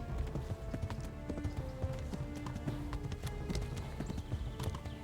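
Horse hooves galloping in Kingdom Come: Deliverance, a steady rapid clip-clop rhythm close by and fairly loud, continuous across the whole stretch with no talk over it.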